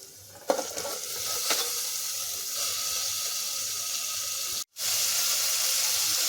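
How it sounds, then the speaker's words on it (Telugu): Chopped bottle gourd hitting hot oil with softened onions and turmeric in a pressure cooker, with a sharp drop-in followed by a steady, close sizzle and a brief pause near the end before the frying resumes. "ఇప్పుడు అందులోకి ఒక పొట్లకాయ కట్ చేశాను అది ఇందులో వేసేస్తున్నాను"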